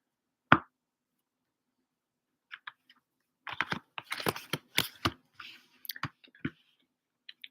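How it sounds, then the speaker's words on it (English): Tarot cards being shuffled by hand, a sharp snap followed by bursts of quick papery riffling and clicks, close and fairly quiet, with no talking. "Okay, let me shuffle these up."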